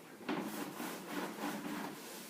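A surface is scrubbed and wiped with soap, producing a soft, continuous rubbing swish in uneven strokes, fairly close and quiet, with no one talking.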